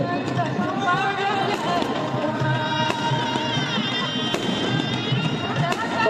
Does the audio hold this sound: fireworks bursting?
yes